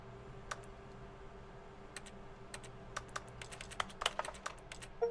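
Keyboard typing in the office game The Stanley Parable, a sparse run of soft, close key clicks with irregular rhythm that grows a little busier toward the end, heard alone over a quiet background hum.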